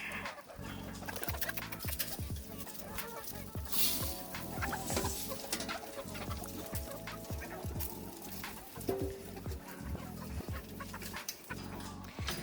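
Young hens cluck and chirp steadily, many small birds calling over each other in a busy, close flock with no talking.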